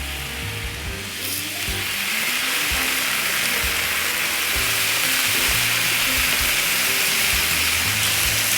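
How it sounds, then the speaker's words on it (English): Bacon sizzles and spits on a hot Blackstone griddle, a loud, steady frying hiss that swells as more strips hit the flat top, with faint scraping underneath. "Might as well put the bacon down too."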